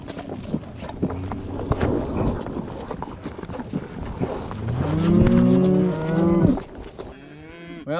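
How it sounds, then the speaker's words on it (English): Cattle moo loudly and close by on a ranch, with several long, drawn-out calls overlapping in the second half, amid scattered clunks and hoof-like knocks. "The cattle are sure enjoying that mineral."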